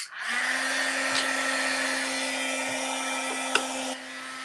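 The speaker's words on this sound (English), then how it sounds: "let's bring this heat gun back in real quick" Heat gun used for embossing holiday cards, a steady close blowing whine with a constant hum tone, running for about four seconds before cutting off.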